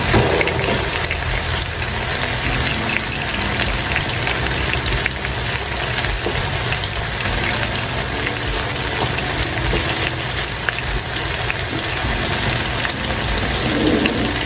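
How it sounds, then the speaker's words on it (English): Seasoned honey Dijon mustard marinade is poured from a bowl back into a pan of chicken, a steady close splashing, trickling stream that continues throughout without any talk. "you're going to add the rest of the marinade that was in the bowl"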